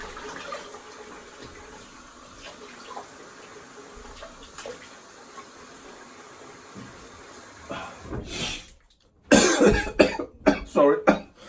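Water from a tap runs briefly while a straight razor is rinsed outdoors in cold weather; quiet rustling and faint sounds come first, then a loud gush of running water in short splashy bursts near the end.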